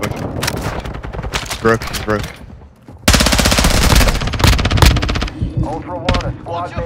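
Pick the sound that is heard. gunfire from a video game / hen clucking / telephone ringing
gunfire from a video game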